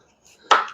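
A knife slicing through a lemon makes a single short, crisp cut that stands out close and fairly loud after a near-silent moment.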